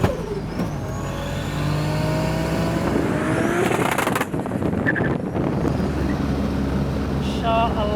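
A 900 hp turbocharged Toyota Supra revs hard, a loud rising engine roar with turbo whistle and whoosh sweeping upward, then short flutters as the throttle lifts, close and continuous.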